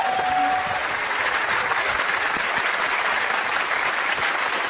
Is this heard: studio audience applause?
yes